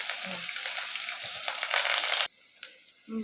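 Sliced onions dropped into hot oil with cumin seeds in a pan, a loud dense sizzle for about two seconds that cuts off abruptly, then a quieter crackle with a few soft clinks.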